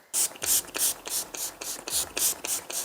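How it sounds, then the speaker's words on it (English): Urban Decay All Nighter setting spray misted from its pump bottle in about ten quick, evenly spaced hissing bursts, close and crisp with a faint mechanical click on each press, no talking. "This is the Urban Decay All Nighter Spray."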